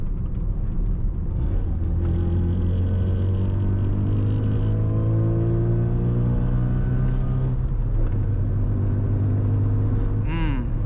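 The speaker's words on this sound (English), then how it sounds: "Exhaust is sounding great." A Mazda RX-7 FC rotary engine idles and revs through its exhaust, a steady close rumble with rising and falling harmonic tones; a voice speaks over it.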